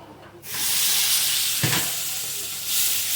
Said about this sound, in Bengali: এবার একটু অল্প করে জল দেবো